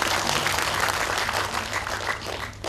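An audience applauds after the inauguration speech for a women's studies centre at a university, giving dense, sustained clapping that stays close and loud before easing slightly toward the end.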